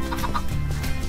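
Chicken clucking in the video game Minecraft, a rapid run of loud close clucks repeating without pause over a short stretch.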